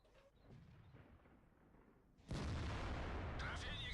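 A sudden heavy cannon blast cuts in after a quieter stretch, followed by a sustained loud rumble typical of a game tank firing, from World of Tanks-style tank combat.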